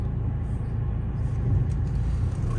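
A 2013 Mercedes-Benz E220 CDI SE BlueTEC saloon with automatic gearbox drives along a road, a steady low engine and road rumble filling the cabin, smooth and continuous with no talk.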